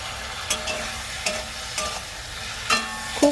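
Masala with red chili powder stir-fried in a pan, a soft sizzle under a handful of distinct scraping stirs and clinks of a spatula spaced about a second apart.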